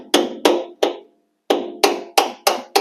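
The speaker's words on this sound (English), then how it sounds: "You just tap it with a chisel." A chisel taps a lock ring on the gas tank sending unit of a 1964 Chrysler New Yorker, giving sharp metallic knocks in two groups: three, a short pause, then five, evenly spaced, close and clear.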